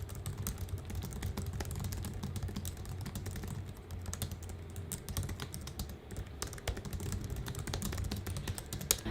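Rapid, continuous clicking of keys on a slim, low-profile Bluetooth keyboard, close and steady throughout with no voices.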